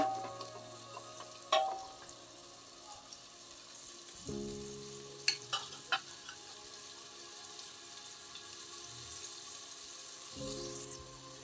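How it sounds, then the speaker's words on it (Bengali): Dried peas sizzle and fry in a pan with spice masala for a rice dish, with steady crackling and occasional sharp clinks of a utensil stirring, close and moderately loud. "ডাবলিটাকে আমি একটু ভেজে নেব"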